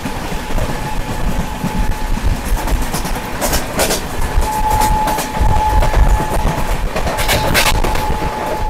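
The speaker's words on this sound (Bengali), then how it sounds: "আর এই বেরিয়ে যাচ্ছে কাঞ্চনজঙ্ঘা এক্সপ্রেস।" The Kanchanjunga Express runs near New Jalpaiguri, a loud, steady rumble with rhythmic rail clatter and bursts of wheel screech. No one speaks.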